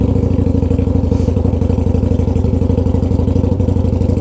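A Harley-Davidson Night Rod motorcycle engine running after firing up, a loud close-up idle with a rapid, even pulsing beat and mechanical clatter throughout.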